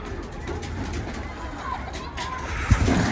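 Homing pigeons coo softly amid rustling and background noise, with a low murmur of voices and a sudden thump near the end.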